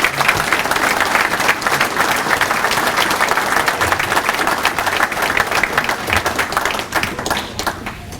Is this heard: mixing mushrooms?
no